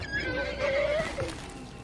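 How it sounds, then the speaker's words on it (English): Horse neighing in a fantasy TV drama, a wavering whinny held for over a second, overlapped by people reacting with gasps and exclamations. "Oh no, that horse!"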